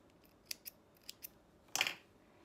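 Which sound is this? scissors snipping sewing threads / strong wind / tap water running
scissors snipping sewing threads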